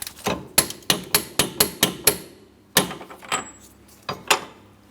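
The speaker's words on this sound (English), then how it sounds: "Let's go ahead and torque this." A torque wrench tightens the rear wheel hub assembly on a 2003-2007 Cadillac CTS, producing a quick run of sharp, evenly spaced metallic clicks up close, then a few more after a brief pause.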